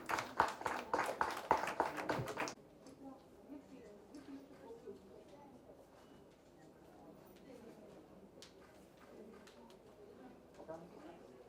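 An audience at a book launch claps loudly for two children on stage in a brief burst of applause, which stops after a couple of seconds and leaves a quiet room murmuring.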